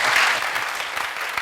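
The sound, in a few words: audience applause for the guest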